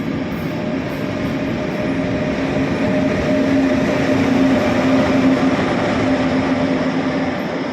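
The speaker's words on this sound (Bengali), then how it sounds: "সাধারণত আমরা দোতলা বাস দেখি এটা হচ্ছে দোতলা ট্রেন" A double-decker train at a Vienna railway station gives a loud, continuous low rumble with a steady humming drone, as if close by and idling or rolling slowly, with no voices.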